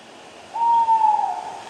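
An owl sound effect for a Hansel and Gretel woods scene: a single sustained hoot, clear and fairly close, rising out of a quiet, faintly hissing background.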